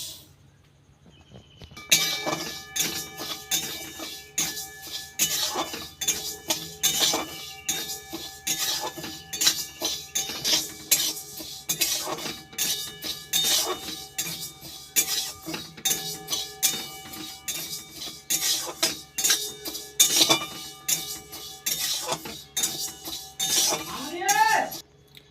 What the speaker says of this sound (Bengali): মুগ ডালটা শুকনো কড়াই একটু ভালো করে ভেজে নেব।